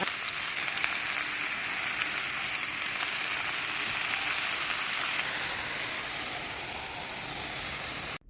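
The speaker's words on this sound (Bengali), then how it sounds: "বাঁধাকপি দিয়ে দিচ্ছি চুলায়" Cabbage frying in a pan on an outdoor stove gives a steady, close sizzle with broad hiss throughout, easing slightly in the final seconds before an abrupt stop; no voices.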